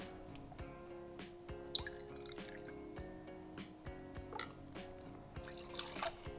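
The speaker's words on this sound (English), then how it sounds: "We will need 60 mils or 2 ounces of cranberry juice." Cranberry juice pours over ice into a cocktail shaker, giving a quiet, steady liquid trickle with small drips and faint clinks from the ice, and no voices.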